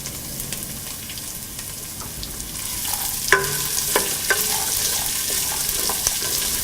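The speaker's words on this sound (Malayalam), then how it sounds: "8 മിനിറ്റോളം മീഡിയം ഫ്ലെയിമിൽ ഇത് വഴറ്റിയെടുക്കണം." Chopped garlic sautés in a pan over a medium flame, a steady close sizzle with scattered stirring clicks and spoon taps against the pan, no voices.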